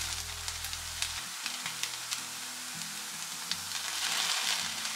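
Sugar going into sago cooking in a pan for a Diwali sweet, giving a steady close sizzle with light scraping stir sounds throughout, and no talking.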